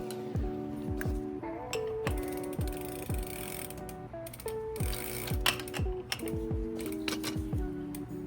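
Left pedal of a Pulse fat tire electric bike being threaded and tightened by hand, giving a run of close, crisp metallic clicks and ratcheting ticks in an uneven rhythm, with faint background hum and no talk.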